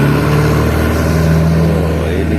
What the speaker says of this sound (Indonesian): Nah ini mobil-mobil lewat, sudah banyak aktivitas di dini hari.